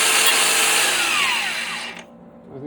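Angle grinder grinding metal while making a magnetic GoPro mount: a loud, harsh, high-pitched continuous grind for about two seconds, with a faint voice starting just after it cuts off.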